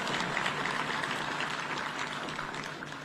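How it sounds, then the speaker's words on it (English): Steady applause from graduates filling a large hall at a National Defence University graduation ceremony in Kenya, a dense continuous clatter of clapping that holds level throughout with no speech over it. "You can clap for yourselves"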